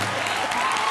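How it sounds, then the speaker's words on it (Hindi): Studio audience applause at a televised Hindi comedy show, a steady dense wash of clapping filling the whole short moment without pause, loud and close. "जोरदार तालियां।"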